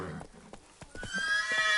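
Roach, the horse in The Witcher 3, gallops with quick, close hoofbeats and then lets out a high, drawn-out neigh, the whinny rising over the fading footfalls.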